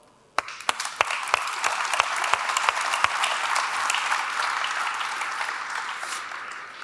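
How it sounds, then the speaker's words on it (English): A conference keynote audience breaks into applause, starting with a few sharp claps that quickly swell into sustained, dense clapping that continues steadily. "I'd love to have a hand of applause for all of them"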